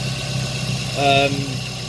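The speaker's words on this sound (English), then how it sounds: "that's how the engine should really sound" Toyota Yaris T-Sport engine idling quietly and smoothly with no chain rattle, a steady low hum with a brief rise in tone midway, under a background of soft ongoing noise.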